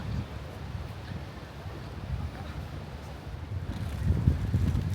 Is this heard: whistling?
no